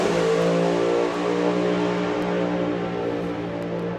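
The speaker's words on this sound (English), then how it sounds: "Andy's car did not sound well, to be honest with you." A drag racing car engine at the FIA/FIM Euro Finals revs loudly and steadily with a strong low harmonic drone, holding close and continuous for about four seconds before easing slightly at the end.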